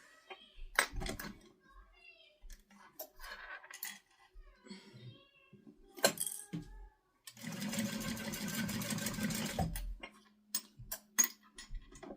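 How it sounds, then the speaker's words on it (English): A sewing machine basting a stitch along fabric about an eighth of an inch from the edge, a fast close mechanical whir running for a couple of seconds between scattered handling clicks and taps. "Now I'm going to use my machine, and I'm just going to base the stitch down here about 1/8 of an inch up from the bottom."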